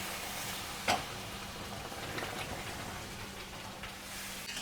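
Sugar syrup is poured into rava and stirred in a pan over a low flame, making a soft, even sizzling hiss with one sharp tap near the start, quiet and continuous with no talking.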